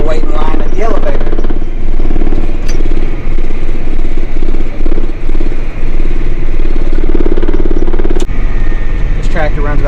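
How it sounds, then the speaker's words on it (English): A farm tractor engine rumbles loud and close as it drives down the road at around 26 miles an hour, a steady droning clatter with some mechanical knocks. "This tractor runs about 26 miles an hour down the road, so you can get places pretty quick."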